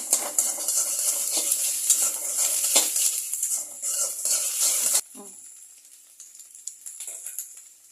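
Noodles stir-frying with onion, tomato, coriander and egg: a loud steady sizzle with spatula scraping and pan clatter for about five seconds, then a quieter hiss with scattered clinks.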